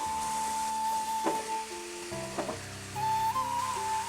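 Cut sweet pumpkin pieces go into a spice paste fried in oil for a tengra fish curry, a steady sizzle with a few stirring knocks partway through and a faint high whine running beneath.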